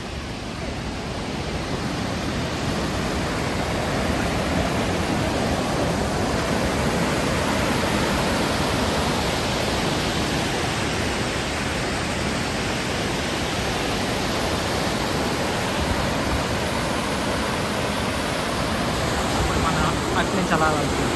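Montmorency Falls in Canada sends up a constant, full-bodied roar of falling water, steady and loud from start to finish, heard from the top of the falls.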